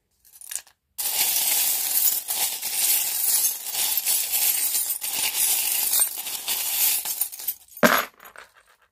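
Small tarot charms are cast onto a table, giving a dense run of clinking and jingling metal pieces that lasts several seconds. A louder clatter lands near the end, followed by scattered settling taps.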